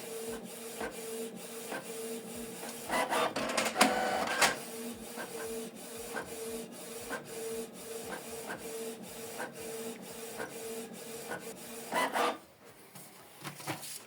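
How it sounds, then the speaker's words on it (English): A Canon Pixma TS3751i printer prints a document, its carriage and feed mechanism producing a steady mechanical whir with regular rhythmic clicks and louder grinding bursts, close by and alone, ending with a sharper paper-eject rustle. "So this document is printing."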